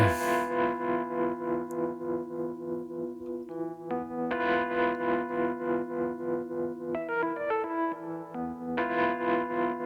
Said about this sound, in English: I believe that's a mini moog, correct?